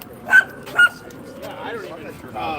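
A dog gives two short, sharp yips or barks close by in quick succession, followed by a person talking over a muffled background.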